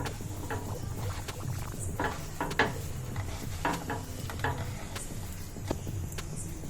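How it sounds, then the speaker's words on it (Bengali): Grated boiled eggs are mixed together with spices by hand in a bowl for egg kabiraji, giving soft, irregular squelching and scraping strokes at close range with faint clinks. "এবারে এই মশলাটাকে আমরা সব একসাথে মিক্স করে নেব"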